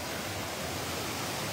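Cascade des Combes near Saint-Claude in the Jura pours continuously, a steady broad rushing roar of falling water with no voices over it.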